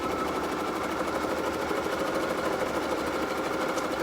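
An embroidery machine stitching a heart design, a fast steady mechanical whirring chatter, even and continuous throughout, with no voice.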